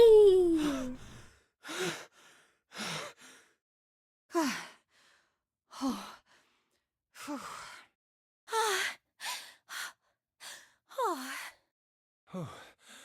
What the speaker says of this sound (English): I love that we get to hear all of them panting individually